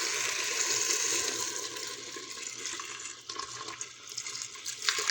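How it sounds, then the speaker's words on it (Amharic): Water pours steadily into a cooking pot holding browned tomato and onion, a rushing splashing stream that carries on for several seconds and then tapers off, with no talk over it. "እንዳቅሙ ውሃዬን እከልሳለሁ።"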